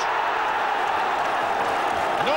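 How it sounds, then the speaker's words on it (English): Football crowd at a 1982 English league match applauding and cheering a goal, a dense, steady roar of clapping and voices filling the stadium throughout, with a rising whistle near the end. "he turns to the crowd for the applause"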